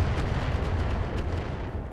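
Heavy mech weapons hitting a target in modded BattleTech (RogueTech): a continuous, loud, rumbling barrage of impacts and booms with no pause, and no voices.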